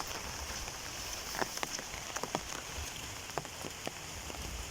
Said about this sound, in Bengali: বৃষ্টি বাবা, একটু জোরে নামে থেমে যা